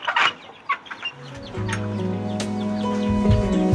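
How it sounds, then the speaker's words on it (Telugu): Chickens cluck nearby in short bursts, followed by a sustained harmonic tone of a longer call, no speech. "మీకు చూపిస్తాను రండి. అదిగోండి కోళ్ళు."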